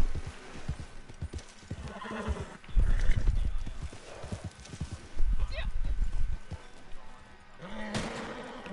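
Horse in the Red Dead Redemption 2 video game whinnies and clip-clops with steady hoofbeats, alongside scattered game noises and someone talking over it.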